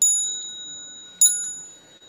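A Buddhist ceremonial bell is struck twice to open a lecture, each stroke a bright metallic ring with a long, steady, fading sustain, the second strike about a second after the first, heard clearly with no talking.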